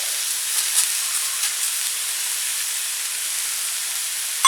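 Arborio rice hisses steadily as it goes into a paella pan with vegetables, a bright even sizzle holding for several seconds and ending in a brief knock.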